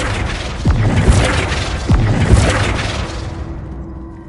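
The Flipendo spell in Hogwarts Legacy goes off as a loud magical whoosh with two heavy booming impacts about a second apart, then a swirling rush that fades out.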